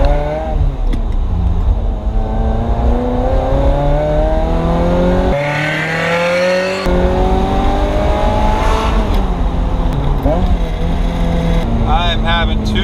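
A Ferrari F355 with a manual gearbox revs hard while driving through the gears, each rising engine wail broken by brief dips at the shifts, loud and close from inside the car, with a voice heard faintly at times.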